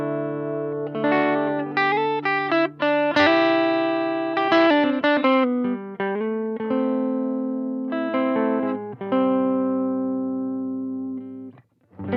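On its neck pickup, an electric guitar runs through a Marshall Class 5 amp, playing a loud, warm, driven passage of picked notes and held chords that continues before cutting off at the end.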